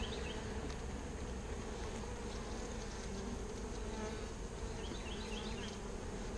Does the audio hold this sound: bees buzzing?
yes